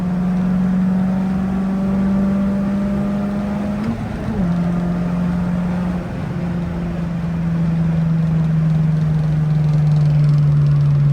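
A tuned car engine, likely a Honda Civic, hums steadily from inside the moving car, a strong low drone that dips briefly around a gear change then pulls on, loud and continuous with no talking.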